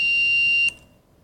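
A homemade dark/light sensor circuit's electronic buzzer sounds as a loud steady high-pitched tone that cuts off abruptly after about two thirds of a second.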